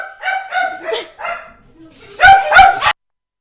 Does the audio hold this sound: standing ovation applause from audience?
no